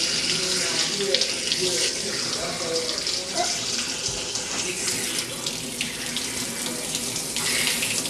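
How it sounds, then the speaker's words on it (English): Water runs steadily from a faucet's long movable hose, rinsing a woman's hair over a sink during a shampoo, a continuous close hiss with slight changes in splash as the stream moves. "I happen to have the type of faucet that has a long hose that I can move around."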